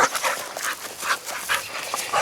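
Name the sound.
dog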